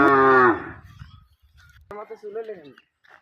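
A buffalo gives one loud, deep moo nearby, then there is quiet with a few faint sounds, and a voice speaks afterward.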